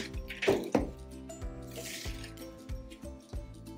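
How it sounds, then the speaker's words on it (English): Water poured onto a potted plant trickles and drips through the potting mix in a quiet, close run of small splashy pulses, with no talking. "I will water until I hear that the water is running through"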